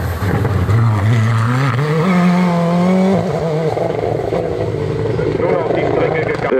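Formel-Master two-litre race car with a Honda engine at a hill-climb race, its engine droning loudly and shifting pitch as it passes close by, with a commentator talking over it throughout.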